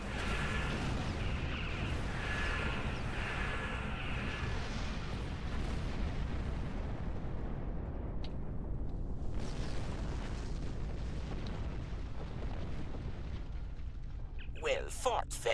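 Starship weapons fire in Star Trek Online: continuous heavy booming and rumbling blasts throughout, with voices talking over the combat.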